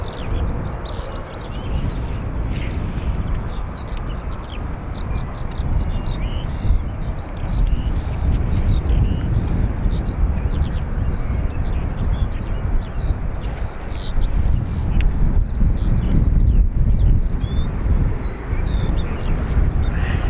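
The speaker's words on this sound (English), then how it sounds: "EI131, it's an A321 Neo off to Windsor Locks" Aer Lingus Airbus A321neo airliner departing Dublin Airport, a steady, distant broadband jet roar sustained throughout with faint bird chirps above it.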